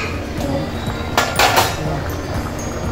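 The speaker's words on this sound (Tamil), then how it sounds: "இன்னும் ஒரு 5 நிமிஷத்துக்கு நம்ம அப்படியே கொஞ்சம் மூடி போட்டு வச்சுருவோம்." A metal lid clinks down onto a cooking pot of simmering peerkangai (ridge gourd) white gravy: a couple of bright, sharp clatters in the middle over low kitchen background and a soft voice.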